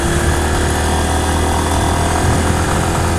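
A loud, steady Honda CBX 200 Strada motorcycle engine drone runs throughout with no pauses, a constant mechanical roar close by, on a road near Itu, Brazil.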